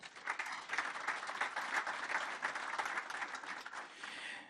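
An audience at a conference applauds steadily for a few seconds, a dense patter of many hands clapping at moderate distance before fading out.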